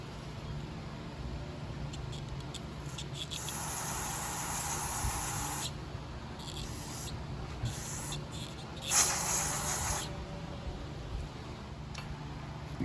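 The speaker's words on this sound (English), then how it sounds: "Gonna spray off the float." Several bursts of aerosol cleaner sprayed onto a carburetor float from a Honda GCV160 mower engine, a few short hisses then longer ones, close by, separated by quiet gaps, with no talking.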